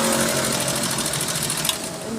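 An industrial buttonholer sewing machine stitches a buttonhole, a fast, even mechanical whirring chatter running continuously at close range with no talking.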